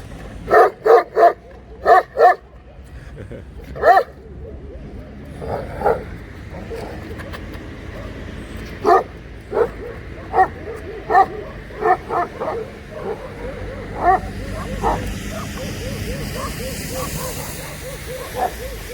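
A Turkmen aboriginal wolfhound barks in sharp bursts, several quick yips in a row, then scattered barks continue at moderate distance over a steady background hum.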